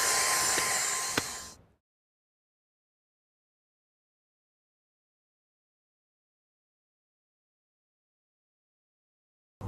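A Dyson vacuum cleaner used as a handheld gives a loud, steady rushing whoosh of airflow for under two seconds, then cuts off abruptly into near silence.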